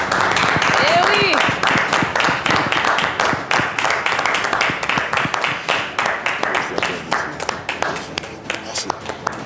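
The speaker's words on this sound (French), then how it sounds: "qui va venir nous rejoindre tout de suite sous vos applaudissements" Audience applause at an army sports club event greeting the captain of a basketball team, many hands clapping loudly and then thinning to scattered claps, with a voice speaking over the start.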